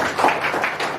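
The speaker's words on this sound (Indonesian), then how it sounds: "Tepuk tangan untuk Tuhan." A church congregation applauds during a service: a brief, close patter of many overlapping hand claps in soft, rhythmic pulses, with no talk.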